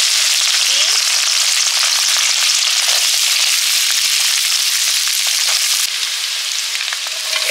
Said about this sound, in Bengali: ফ্রাইড রাইসের সবজিগুলো ভেজে নিচ্ছি।